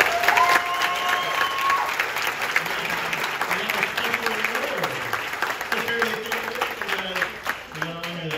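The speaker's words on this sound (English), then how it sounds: "Give a round of applause for Chris." Sustained applause from a convention crowd at a horror film reunion panel, dense clapping continuing throughout with voices and faint speech mixed underneath.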